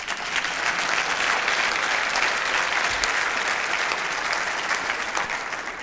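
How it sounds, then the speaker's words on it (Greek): An audience applauds, dense sustained clapping that stays fairly loud and even throughout, with no speech over it. "Εδώ χειροκροτάνε."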